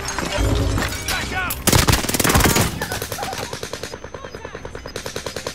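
Warzone Rebirth gameplay with heavy, close automatic gunfire. Sustained loud bursts give way to a steady, rhythmic rattle of shots that fades slightly toward the end.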